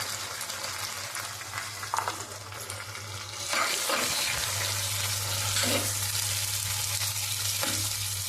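Mustard seeds, cumin, urad dal, curry leaves and turmeric sizzle and crackle in hot oil, with a steady close frying hiss and a low hum throughout, punctuated by brief bursts of louder spattering.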